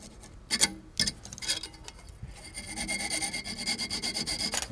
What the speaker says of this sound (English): Just take a little bit of sandpaper here and just rough this up.